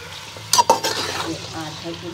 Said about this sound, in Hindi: मैं चूल्हा तेज कर दूँ, थोड़ा सा इसको भून के।